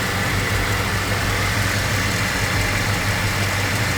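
A truck engine idles in a steady, loud, close rumble with an even mid-range drone and no break for the whole stretch, no voices.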